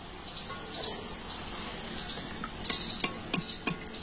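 Semolina mugshola pithe fry in hot oil with a soft steady sizzle, joined near the end by several sharp clinks of a utensil against the pan.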